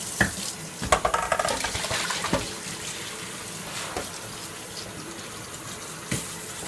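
Boiled chitlins and their cooking water poured into a colander: a burst of sloshing and splashing at first, then a steady draining trickle. No voices.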